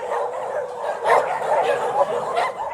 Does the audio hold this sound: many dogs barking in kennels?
yes